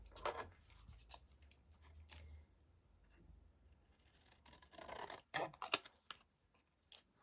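Scissors cut paper for a stamped collage card, several crisp snips and rustles scattered across about seven seconds with quiet gaps between them, close up and soft, with no speech.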